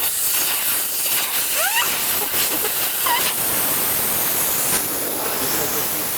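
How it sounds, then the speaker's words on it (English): Compressed air hisses steadily out of the loosened drain nozzle on the underside of an air compressor, a continuous close rush of noise with faint squeaks over it. "You loosen it and let all the air come out."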